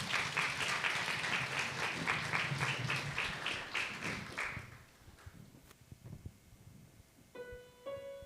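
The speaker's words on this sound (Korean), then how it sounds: "박수해 주시겠습니다" A church congregation at a festival worship service applauds loudly for a few seconds, then the clapping fades to scattered taps before soft musical tones begin.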